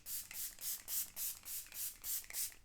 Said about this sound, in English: This is the Aqua Splash Grip Fixing Spray.